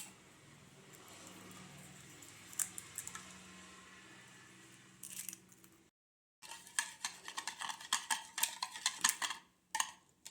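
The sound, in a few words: beating eggs for caramel pudding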